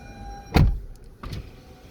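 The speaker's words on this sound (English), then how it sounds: "what I'll do is I'll roll this window down." A 2019–2021 Toyota RAV4 Hybrid's power window motor whirs briefly as the window rolls down, followed by a second shorter whir a moment later; close and fairly quiet, no talking.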